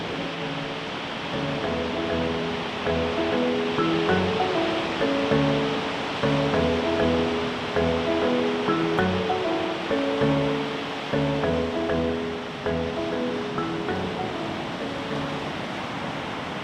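Ocean surf at a Southern California beach makes a steady, broad wash of waves that stays continuous and moderately loud, with a faint tonal hum running underneath.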